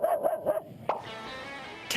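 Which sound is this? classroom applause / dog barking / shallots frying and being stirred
dog barking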